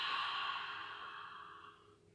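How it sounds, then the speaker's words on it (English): A deep exhale is pushed out through the mouth during a hatha yoga flow. It is one long, airy breath, close and clear, that slowly fades over about two seconds. "We've got 3 breaths here in the nose, nice and big and full,"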